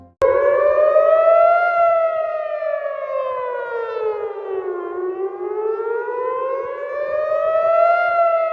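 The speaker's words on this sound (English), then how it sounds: "Air raid sirens suddenly began echoing across the entire city." Air raid sirens wail across Tel Aviv during a missile alert, a loud sustained civil-defense tone that rises and falls in slow sweeps over several seconds, filling the air alone without voices.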